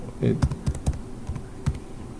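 Computer keyboard being typed on while writing Python code, a handful of distinct close key clicks in an irregular rhythm over a couple of seconds.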